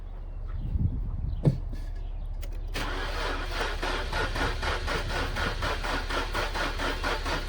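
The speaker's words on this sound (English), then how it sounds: "we'll start it up" An Infiniti Q50 3.0T with 110,000 miles, just fitted with a new alternator, cranks after some faint handling noises and catches at once, settling into a close, steady idle with a low, rhythmic pulse.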